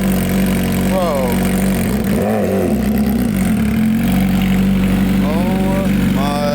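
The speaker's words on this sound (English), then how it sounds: "This is probably one of my favorite sounding bikes." A Nurburgring edition RR hyper naked motorcycle rumbles loudly at close range with a deep steady idle, breaking into a few sharp throttle blips and rising revs, while people talk excitedly nearby.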